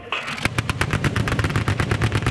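Artillery shells strike the target area during the Fuji live-fire exercise in Japan, a loud rapid rattle of many sharp blasts in quick succession, densely packed over about two seconds.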